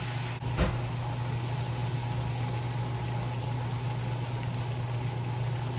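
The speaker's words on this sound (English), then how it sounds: "So I'm just gonna leave it to fry" Bammy, a Jamaican cassava flatbread, frying in hot oil, giving a steady close sizzle and bubbling hiss that runs unbroken with no talk.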